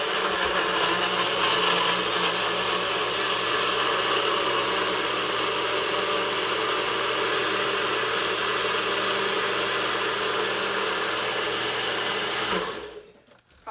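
A blender grinds a smoothie of avocado and coconut in one loud, continuous whir that holds steady for about twelve seconds before spinning down and stopping.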